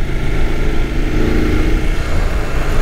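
A motorcycle engine drones steadily with loud wind rush, like riding at speed on an open road, with no break in the noise.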